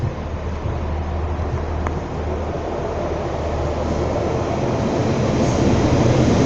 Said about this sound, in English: Next train to arrive in is a Pacer, so Pacer alert to Bishop Auckland, and it's 142.